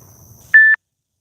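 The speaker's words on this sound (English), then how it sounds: "Stupid beep is driving me crazy." A single sharp electronic message notification beep, a steady tone lasting about a quarter second, loud and close, cutting in over faint low background murmur and followed by silence.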